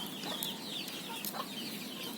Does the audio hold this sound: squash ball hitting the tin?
no